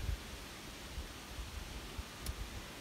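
Outdoor wind buffeting a microphone gives a steady low, broadband rush with soft rumbling thumps. It stays faint and continuous throughout, and no one speaks.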